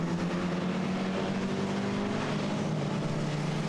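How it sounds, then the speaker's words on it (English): Alfa Romeo race cars in a championship race on a circuit, their engines giving a steady, continuous drone throughout with no clear passes or gaps. "coming under pressure from the Grove and Dean machine of Andy Hancock, and he's closing in"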